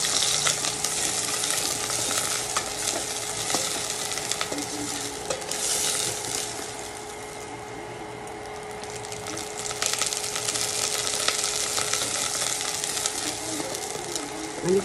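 Garlic sizzles and spatters in hot oil in a thin, lightweight saucepan, a steady dense frying hiss with scattered sharp pops and stirring scrapes, close and continuous throughout, with no voices.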